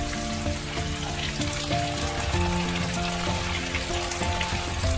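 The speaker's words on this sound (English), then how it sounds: "I'm gonna crack 2 eggs. And cook it on this side." Eggs frying for pad see ew sizzle steadily in a hot pan, a dense crackling hiss close up with no voices, along with some tonal hum from the stove or kitchen.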